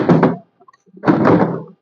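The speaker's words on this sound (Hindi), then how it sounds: "जब इसको दबाएंगे तब ऊपर खटखट का आवाज आएगा" A float switch pressed into an RO water purifier gives two dull plastic clunks about a second apart, close and fairly loud, with no talking.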